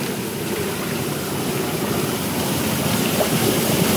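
Water rushes and churns steadily inside a water mill, a dense, constant roar with no pauses.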